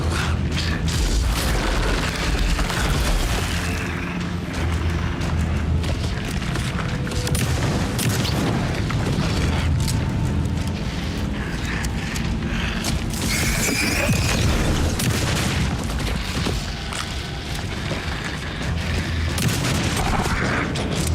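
Gunfire in the video game Alan Wake 2, loud booming shots and impacts packed into a dense, continuous barrage with rumbling mechanical noise, no clear gaps and no talking.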